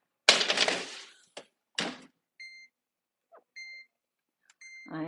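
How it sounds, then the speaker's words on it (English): An oven timer being set gives a series of short, bright electronic beeps, spaced and repeated, after a clatter of a pan sliding into the oven while sheet pan chicken souvlaki is being made. "Let me set the timer."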